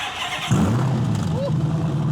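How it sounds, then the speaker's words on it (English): A Dodge Hellcat engine with an exhaust leak starts and runs with a rough, throaty rumble, loud and close, a raspy exhaust note sputtering under the idle. "This thing over the last couple weeks has developed an exhaust leak, and we just found it."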